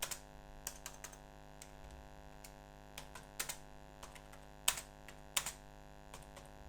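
Quiet, irregular clicking of keys on a computer keyboard while typing text in WordPad, scattered taps with a few louder keystrokes, close and alone over a faint steady hum.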